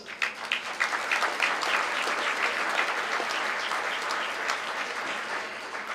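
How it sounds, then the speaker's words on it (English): Steady, dense applause from a gala audience at a Greek culinary event fills the whole stretch at an even, sustained level, with no talk over it. "a round of applause, please"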